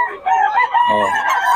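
A young rooster, a stag, crows once in a loud, close call lasting over a second, with a strained, rising and falling tone.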